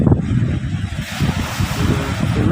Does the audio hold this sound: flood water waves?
yes